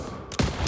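Gunfire in a Call of Duty WWII stronghold battle against machine-gun positions, with a sharp loud burst cracking in partway through and carrying on to the end after a brief muffled lead-in.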